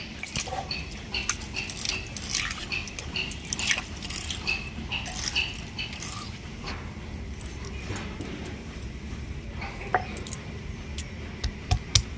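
Ginger being ground into paste: a continuous run of rough, close scraping and crushing strokes with an irregular rhythm and no talking.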